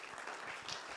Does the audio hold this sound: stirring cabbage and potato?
no